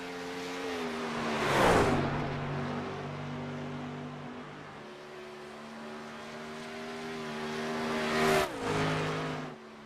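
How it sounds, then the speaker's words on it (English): Sprint car engines in the iRacing video game lapping a track, a steady high whine with two loud passes near the beginning and near the end that surge and then quickly drop away. "Chad Irvine making his way around the racetrack"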